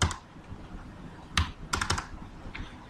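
Typing on a computer keyboard while editing code, with irregular clusters of sharp key clicks close by, a few quick bursts separated by pauses and no talk.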